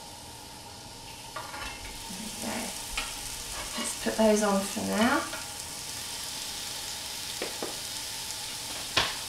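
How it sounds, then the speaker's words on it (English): Low fat burgers sizzle on a hot griddle pan with a steady frying hiss throughout, as someone speaks briefly over it and a clink sounds near the end. "You can hear that great sizzling sound."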